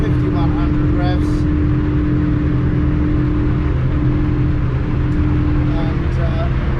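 Yamaha outboard driving a Jeanneau Merry Fisher 895 at about 32 knots and 5,100 rpm down an estuary, giving a loud, steady engine drone with rushing water and wind noise and no pause, while a voice speaks briefly over it.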